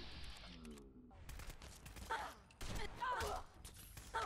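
Gunfire in the video game Fallout 4, several sharp shots and bursts spread over a few seconds, mixed with game sounds and a faint voice.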